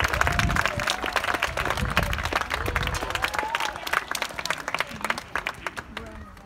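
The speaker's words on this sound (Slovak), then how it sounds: "Poprosím veľký potlesk ešte raz." A crowd at the opening of Slovakia's first barrier-free playground in Zvolen breaks into a big, sustained round of clapping that slowly thins out toward the end, with a few voices mixed in.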